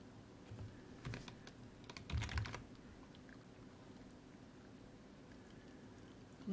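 Someone taps keyboard shortcuts on a computer keyboard, a few soft key clicks with a brief cluster in the middle, quiet and close against a low background hum.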